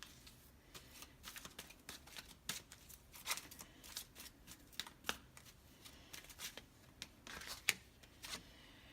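Tarot cards are shuffled by hand close to the microphone in quiet surroundings, giving irregular bursts of crisp riffling and slapping with short pauses between them.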